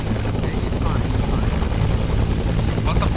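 Helicopter rotor and engine noise from the Arma military video game, a loud steady roar filling the whole stretch with faint voices beneath it.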